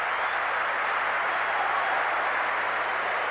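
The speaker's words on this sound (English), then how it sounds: "Close enough to have the crowd roaring" A football crowd at the 1987 Full Members Cup Final between Blackburn Rovers and Charlton Athletic roars at a near miss: a dense, sustained wall of noise from a large stadium audience, with no gaps.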